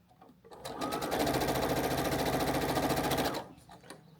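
A sewing machine runs a fast, steady burst of stitching through scrap fabric while piecing a quilt block, starting up, holding an even mechanical rattle for a few seconds, then stopping, close and alone.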